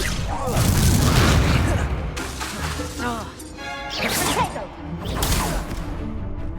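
An Incendio fire spell cast in Hogwarts Legacy, a loud crash and whooshing blast followed by further swishing spell impacts, with a voice speaking over parts of it.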